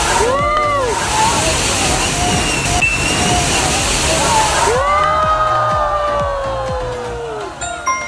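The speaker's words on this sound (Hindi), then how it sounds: "ये वाली बाल्टी भरेगी और ये बाल्टी गिरेगी इनके ऊपर, पूरा 100 लीटर पानी गिरने वाला है" A giant tipping bucket at an Abu Dhabi water park dumps around a thousand litres of water onto waiting people. A loud rushing cascade lasts several seconds, mixed with shrieks and voices, then fades to chatter and cheering.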